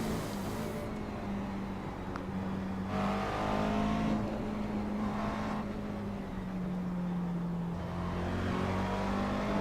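McLaren MP4-12C engine lapping Sebring in iRacing: a loud continuous engine drone that rises and falls through gear changes and throttle lifts, close up, with no voices over it.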